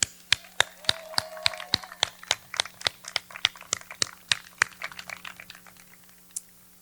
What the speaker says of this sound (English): let's give a big round of applause for those that are far so they could hear and feel us